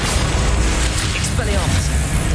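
Confringo blast spell in the Hogwarts Legacy video game, a dense, steady roar of booming explosive noise filling the whole stretch, with a faint swirling magical tone partway through and a voice mixed in.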